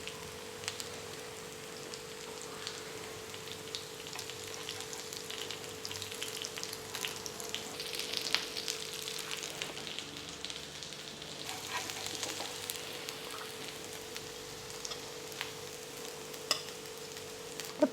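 Vegetable cutlets fry in a pan with a steady, soft sizzle and crackle of oil that carries on evenly for many seconds, close by with no talking.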